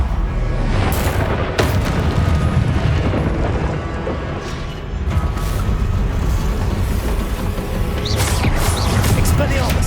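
Fiery spell blasts from the Hogwarts Legacy video game, loud and continuous, with booming bursts and crackling over a dense rumbling background of combat effects, punctuated by sharp hits near the start and again around the middle.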